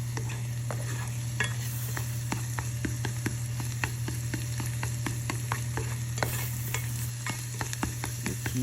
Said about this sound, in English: landing the egg on a hot pan with hot oil and stirring it, gives you the fluffy shape